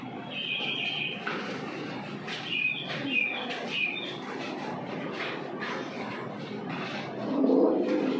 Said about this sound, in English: I love listening to the birds singing.